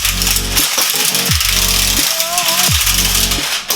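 An impact gun on a very long extension with a swivel head hammers in loud, close bursts, stopping and starting again roughly every second, with the motor note rising and falling between hits.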